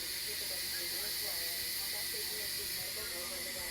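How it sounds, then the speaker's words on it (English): Steam hissing steadily from a chicken curry cooking pot in an RV kitchen, a loud continuous hiss with faint background voices underneath. "Okay, it's about done steaming."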